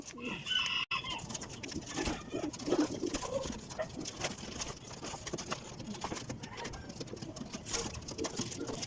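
Pigeons coo and birds call throughout a pigeon coop while it is being cleaned, with a rooster and a dog also audible amid steady scraping and rustling at close range.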